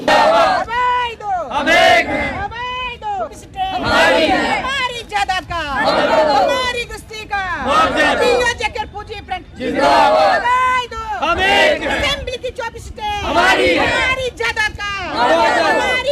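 A large protest crowd in Jammu and Kashmir chanting slogans against the government, loud rhythmic shouted calls and responses repeating in waves, close and dense with many voices.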